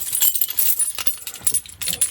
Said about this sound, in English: So let's grab the keys here.